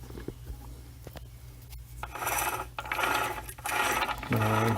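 Gears turning inside a Mini Getrag 5-speed transmission while its shift fork is lifted with a screwdriver, a close rattling mechanical whir that grows louder and busier partway through.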